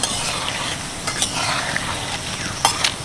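Doi bora lentil fritters fry in hot oil, a continuous dense sizzle with occasional light clinks of a utensil stirring the pan, and no voices.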